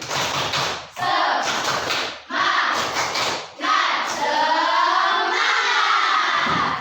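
Schoolchildren in a classroom perform a rhythmic spirit clap, with loud bursts of clapping and shouted chanting in repeated phrases, ending in a sustained cheer.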